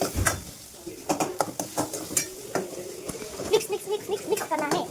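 Onion goes into a pan over chilli and coriander paste and is stirred, giving irregular scraping clatters of spoon on metal over a soft sizzle, fairly quiet and close.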